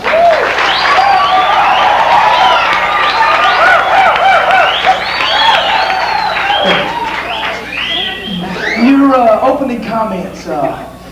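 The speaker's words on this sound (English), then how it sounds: "I want you to give a round of applause to Dr. Liberal of the ACLU" Studio audience applause on a daytime talk show, a steady dense wash of clapping that holds loud throughout, with voices and cheering mixed over it.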